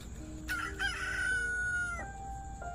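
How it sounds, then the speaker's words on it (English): A rooster's cock-a-doodle-doo crow played from a farm-animal sound toy button, a single bright drawn-out call over faint room noise. "Is that a rooster sound?"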